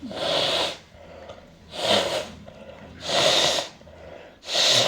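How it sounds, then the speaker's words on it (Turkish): Four loud, forceful blows of air through the nose come at a steady rhythm, close up, with brief pauses between them, from a person with sinusitis. "Şimdi bir sümkürebilin istersen kocaman şöyle."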